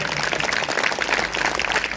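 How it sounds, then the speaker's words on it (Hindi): A church congregation at a Sunday service claps loudly, a dense, steady wash of many hands sustained throughout, with no talk over it. "अगर आए तो अपने जोरदार तालियां बजाना"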